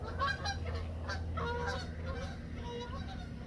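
Canada geese honk repeatedly in a noisy cluster, loud and close, over a steady low rumble of background noise.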